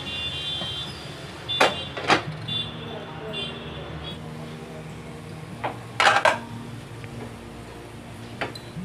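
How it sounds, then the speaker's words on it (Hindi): Metal lid set onto a pan of misal gravy on a home kitchen stove, giving a few sharp clanks around two and six seconds over a low steady background hum. "ये मिक्स हो चुका है और अब मैं इसे ढक दूंगी"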